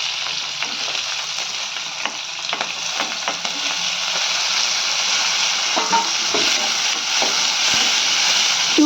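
Chopped onions sizzle in hot oil with cumin seeds while being stirred in a pan, a steady bright frying hiss with scraping stir strokes, close and loud, with no talking.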